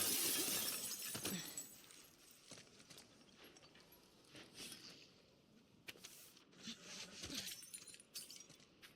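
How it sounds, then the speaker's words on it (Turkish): Glass breaking in The Last of Us Part II, a sharp shatter up front followed by scattered tinkling and crunching bits of debris, fairly quiet overall. "Camı falan kıracağız belli."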